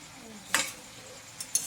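A spoon scrapes and stirs teasel gourd leaves in a pan, giving two or three short clinks against a faint background sizzle, close and quiet with no talking.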